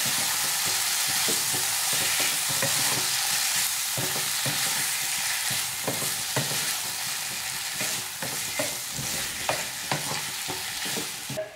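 Tofu and green peas in a masala sizzle in a pan as they are stirred, a dense frying hiss punctuated by repeated close scrapes and clacks of the spoon, easing slightly toward the end.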